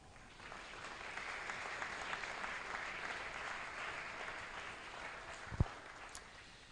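A church congregation applauds in a steady, moderately distant patter of clapping that runs throughout, with a single sharp knock near the end.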